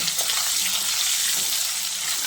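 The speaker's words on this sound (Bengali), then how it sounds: "এবার এই আলুর মধ্যে অল্প পরিমাণে একটু নুন আর একটু হলুদের গুঁড়ো দিয়ে আলুটাকে ভেজে নেব।" Potato strips frying in a pan with salt and turmeric, giving a loud, steady, close sizzle that holds without a break for the whole stretch, no talking.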